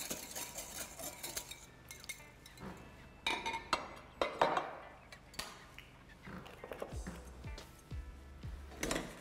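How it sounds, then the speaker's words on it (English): Metal whisk stirring salt and pepper in a bowl in a kitchen, a quiet flurry of irregular clinks and scrapes against the bowl, rising briefly in the middle before settling. "I'll give that a whisk."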